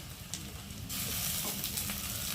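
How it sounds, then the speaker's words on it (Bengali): Garlic, ginger and cumin paste hits fried onions in hot oil, with a steady sizzle that jumps to a loud, dense hiss as the paste goes in and holds there. "আর এখন আমি দিয়ে দেবো রসুন বাটা, আদা বাটা, জিরে বাটা"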